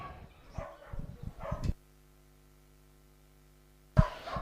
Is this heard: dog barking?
yes